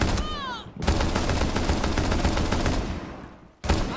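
An SMG-12 machine pistol in Rainbow Six Siege rattles off a long, rapid, loud burst of automatic fire, stopping briefly before another burst begins, with a whistle-like game sound at the start.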